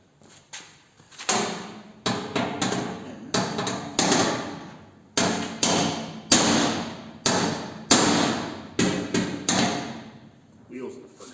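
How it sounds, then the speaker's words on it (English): Heavy hammer blows on a thick piece of metal inside a Studebaker car body, struck in quick irregular bursts of ringing clanks with short pauses, loud and close in a workshop. "It's got that thick piece of metal in there. Just need to hammer that up."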